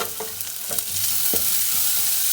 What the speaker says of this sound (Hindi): इसको भी 1-8 मिनट के लिए हम लोग फ्राई करेंगे